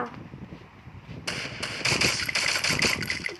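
Gunfire in a video game: after a quiet moment, a rapid run of sharp repeated shots breaks out and continues in quick bursts to the end, moderately loud with no talking over it.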